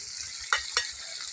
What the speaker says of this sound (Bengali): এবার মাছগুলো ভাজবো, তেল দিছি কড়াইতে, মাছ দিয়ে দিই